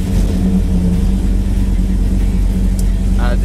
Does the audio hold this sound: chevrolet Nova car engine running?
yes